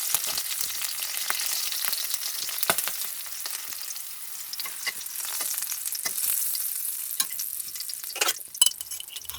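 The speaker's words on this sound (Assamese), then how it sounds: "লগতে কেঁচা জলকীয়া এটা দি দিছোঁ দুফাল কৰি।" Chopped onions and a split green chili fry in hot oil, giving a steady, close sizzle with scattered crackles and pops and a few louder spatters near the end.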